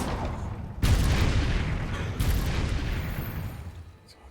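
A Confringo explosion spell from Hogwarts Legacy erupts as a loud, dense blast that sets off a long roaring rumble, followed by a second surge that gradually fades.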